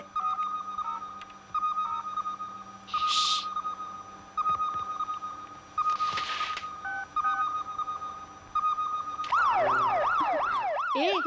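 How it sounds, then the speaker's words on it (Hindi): A siren from a police car or fire brigade wails in a film scene, starting as repeated steady tones and ending in loud rising-falling sweeps, with a couple of brief bursts of other noise along the way. "ए, ये तो पुलिस का सायरन लगता है।"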